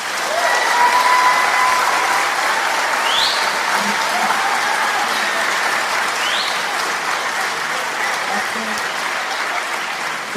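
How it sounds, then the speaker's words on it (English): Sustained applause from an audience fills the space, a loud, even wash of many hands clapping that holds steady throughout with faint crowd murmur beneath. "I want to give everybody in the chat another round of applause"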